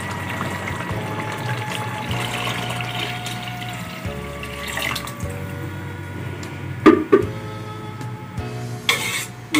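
Yakhni stock, four glasses of it, poured into a pot of chicken pulao, giving a steady close liquid rush and gurgle with a few louder splashes near the end, no talk.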